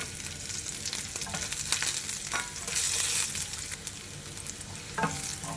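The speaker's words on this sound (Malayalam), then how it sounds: "കടുക് പൊട്ടി നമ്മൾ ഇതിനകത്തേക്ക് അരിഞ്ഞു വെച്ചിരിക്കുന്ന ചെറിയുള്ളിയും കറിവേപ്പിലയും കൂടി ചേർത്ത് കൊടുക്കുകയാണ്." Chopped shallots and curry leaves sizzle in a mustard seed tempering for cucumber-mango curry, a close, steady frying hiss with light crackles and a few stirring scrapes, no talking.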